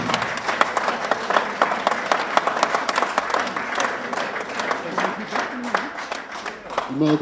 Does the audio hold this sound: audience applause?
yes